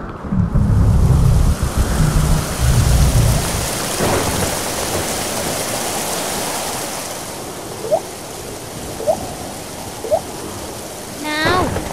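Rain and thunder in an animated folk-tale film: a steady, loud hiss of rain with a heavy, low thunder rumble over the first few seconds, then continuing rainfall, with a few short chirping sounds near the end.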